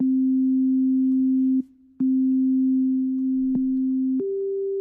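Plain basic-waveform synthesizer tone from Arturia Pigments with its filter cutoff lowered, a steady loud sustained note that breaks off briefly and is re-triggered several times, shifting pitch slightly near the end.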